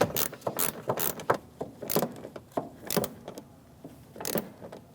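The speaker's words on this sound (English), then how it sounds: "then I'll put my ratchet on. And I'm just going to snug it right up." A ratchet clicks in quick bursts while snugging a 10 mm bolt on the washer reservoir of a 2016-2025 Chevrolet Malibu, close up and fairly loud, with short pauses between runs of clicking.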